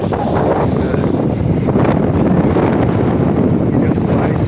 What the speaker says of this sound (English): the wind is hard today, man